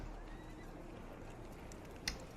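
Horses in the Rome: Total War game snort and shift with faint hoofbeats under a quiet ambient bed, with a brief sharp sound near the end; no one talks.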